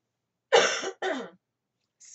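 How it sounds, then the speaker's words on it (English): A person clears their throat in two quick, rough bursts up close, followed by a brief faint sound after a pause; quiet room otherwise. "have to stop and clear my throat"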